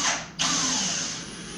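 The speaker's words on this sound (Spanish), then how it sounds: "ingresamos los tornillos." A power drill driving screws into a melamine kitchen cabinet panel on a workbench, a steady close whirring that briefly dips, then rises again and runs on without pause.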